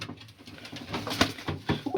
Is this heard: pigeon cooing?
yes